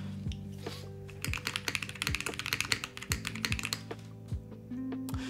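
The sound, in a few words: typing on mechanical keyboard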